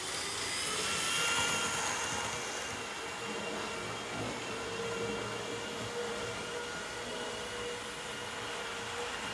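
A Hornby Terrier model locomotive runs along its track with a continuous, even motor whir and rolling hum at moderate level, steady for several seconds with no voices.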